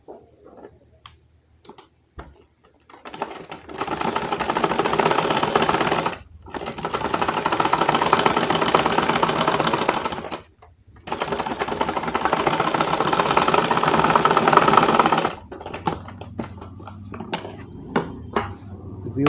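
Sewing machine stitching the round neck of a kurti, running in three sustained rapid-ticking bursts separated by short pauses, close and fairly loud, with light handling noises between runs.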